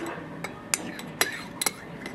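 Small spoon stirring a yuzu mixture in a bowl, light clinks and taps against the sides at an irregular pace, fairly close, over faint room noise.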